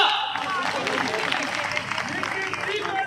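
Audience applause welcoming Union Minister Nitin Gadkari at the 160th anniversary event of Hardayal Municipal Library, a dense burst of clapping from a crowd with voices mixed in, steady and loud across the short stretch.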